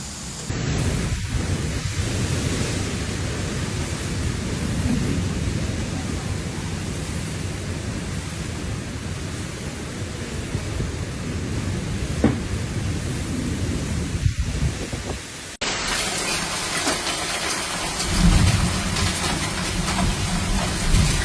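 A severe thunderstorm over the Dallas–Fort Worth area, with steady heavy rain hissing throughout, faint rolls of thunder, and a deeper rumbling downpour in the final stretch.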